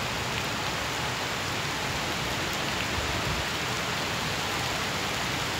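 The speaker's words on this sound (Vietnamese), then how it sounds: "Mưa lớn nữa rồi." Heavy rain falls at a leafy zoo, a dense, steady roar of drops on surfaces and foliage that continues evenly throughout with no voices.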